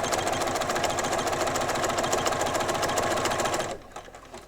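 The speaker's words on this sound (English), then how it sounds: "They're going to be folded and sewn, so they're pretty sturdy. And you're going to sew directly on the line." A sewing machine stitches quilt binding strips together, a fast steady mechanical whir with rapid needle pulses that runs loud for nearly four seconds and then stops abruptly.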